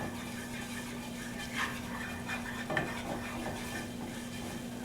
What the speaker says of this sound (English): I'll give it a little stir in there.